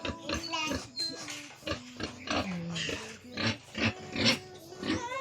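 Pigs grunting and snorting at close range around a backyard pen, a busy run of overlapping bursts with people talking nearby.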